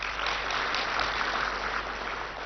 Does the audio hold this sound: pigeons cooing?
no